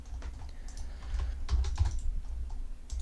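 Soft keystrokes on a computer keyboard while entering a dimension for a house floor plan in AutoCAD, several quick taps in short clusters, faint and close, with no talking.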